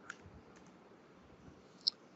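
Two faint, sharp computer mouse clicks, one near the start and a crisper one near the end, over quiet background hiss.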